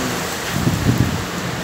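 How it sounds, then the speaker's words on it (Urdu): Heavy rain pours down in Riyadh, a steady, dense hiss that holds at an even level throughout with no voices. "دوستو ریاض میں بہت تیز بارش ہو رہی ہے"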